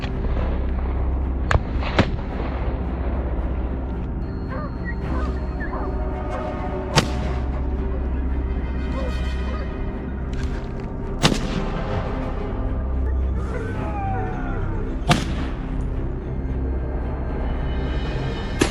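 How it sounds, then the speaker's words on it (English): Gunshots fired in a rapid barrage while hunting wild boars in a farm field, sharp reports spaced irregularly over a steady loud background rumble. "quickly aiming and unleashing a barrage of deadly shots before they could escape"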